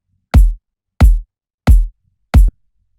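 A layered kick drum combining a sub layer, a vintage LinnDrum mid layer and a clicky top layer: four punchy, evenly spaced hits with a sharp click attack and deep body, heard alone.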